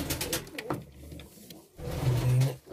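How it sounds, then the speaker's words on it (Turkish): A pair of Hünkâr pigeons coo in a loft, soft low throaty calls repeating in short bursts close to the microphone, with faint rustling between them. "Bir çift hünkârımız var."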